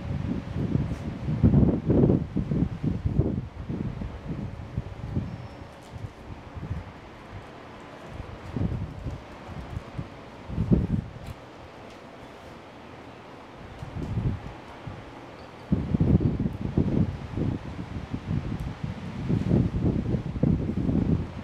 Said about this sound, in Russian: Наверное, все-таки к вечеру ветер утихнет.